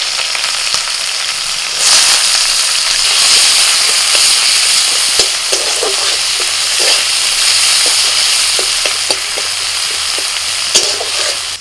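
Chopped onion frying in a wok over whole spices (bay leaf, black and green cardamom, cinnamon, cloves, cumin), a loud steady sizzle running throughout with occasional crackles and stirring clicks, no talking.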